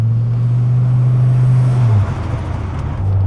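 Classic automatic car climbing a hill with its engine droning at a steady low pitch, then the note drops and flutters unevenly as the load shifts, with road noise filling in underneath.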